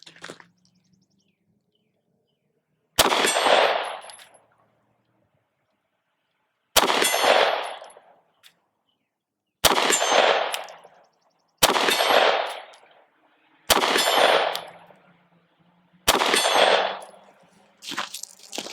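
Sig P365 Gen 2 9mm pistol shots ringing on steel targets at 50 yards, six loud sharp cracks each followed by a metallic clang and decaying echo, spaced a couple of seconds apart, no talking.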